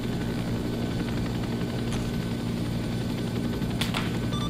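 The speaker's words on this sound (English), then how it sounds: "We've got two helicopters." Steady, droning helicopter rotor and engine noise from a military air cavalry transport video game, continuous and moderately loud with a couple of brief higher-pitched clicks.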